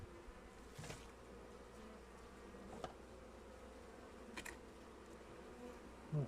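Honey bees buzz around an open hive during a November inspection, with colonies said to turn aggressive when the entrance faces the wind; a steady low drone runs throughout with a few brief, closer passes standing out.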